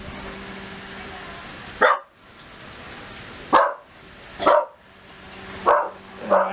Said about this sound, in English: That's my dog Gizmo.